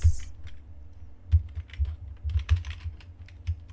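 Keys clatter on a computer keyboard in irregular bursts of close, crisp taps while code is typed during a web development lesson, with no talk over the keystrokes.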